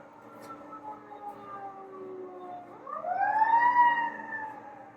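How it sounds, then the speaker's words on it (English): A siren wails in the distance, its pitch sliding down, then rises again louder and nearer over a quiet background. "that's for somebody with that siren about to go on."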